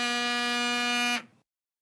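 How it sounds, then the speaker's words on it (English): In a movie theater, a phone gives off a loud, steady electronic buzzing ring tone that holds for about a second, then cuts off abruptly into silence. "That was my phone."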